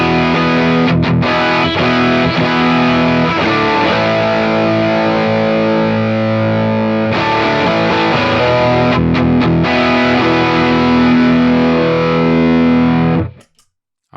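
An electric guitar plays through an overdrive pedal powered at 18 volts and set for high gain. Thick, distorted chords and riffs roar loud and steady for several seconds, then cut off abruptly at the end, with no talking.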